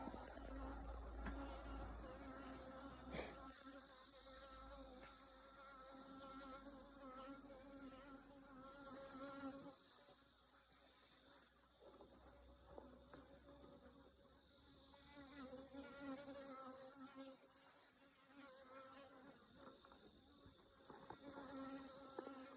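Honeybees buzz steadily around an open, calm beehive during an inspection, a dense, continuous insect drone with many overlapping wingbeats close by and no talking.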